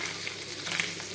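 Anchovies frying in a pan give a steady, close sizzle with a crackling hiss, continuous and fairly faint, with no voices over it.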